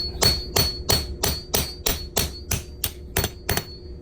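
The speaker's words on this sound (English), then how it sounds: "I'm gonna go ahead and punch this through with a hammer just to show you how much easier it is" Hammer strikes a metal punch driving it through a coin, about a dozen sharp ringing metallic blows at a steady brisk rhythm, close and loud with no talking.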